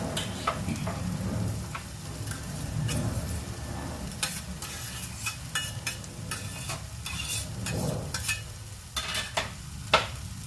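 Sweet pepper, jalapeno and garlic sizzle in a hot pan, a steady frying hiss broken by scattered sharp ticks and light scrapes of stirring, with no voices.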